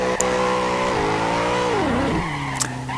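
BMW M3 GTS drifting on a track, a loud close engine holding a steady high note that sags and dips mid-slide, with brief tire squeals at the start and near the end.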